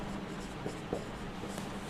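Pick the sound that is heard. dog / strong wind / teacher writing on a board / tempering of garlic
teacher writing on a board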